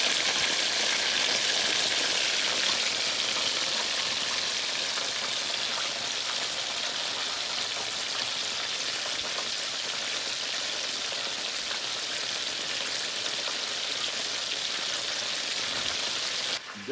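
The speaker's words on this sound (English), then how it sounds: "That's deep frying." Chicken deep frying in hot oil gives a constant, dense crackling sizzle that holds steady and close throughout.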